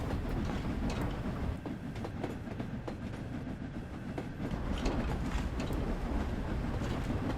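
A train rolls along the rails in snowy conditions in Train Sim World 3, giving a steady, loud rumble with rhythmic wheel clatter and mechanical rattling.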